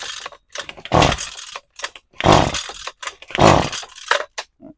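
A Husqvarna string trimmer engine being pull-started and sputtering: three strong pulls each bring a loud ragged burst of engine noise that dies away, with short rattles and clicks between attempts, close by.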